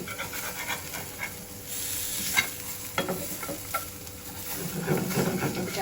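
Fish roasts in a pan without oil with a faint, steady sizzle and hiss. Occasional soft scraping and stirring noises are heard close by, with no talk.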